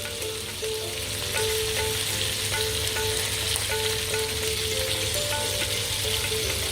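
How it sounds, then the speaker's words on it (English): Chicken fries in a pan with a steady, close sizzle and faint crackling, interspersed with light scraping from stirring, with no talking. "This is going to fry for about 5 minutes now."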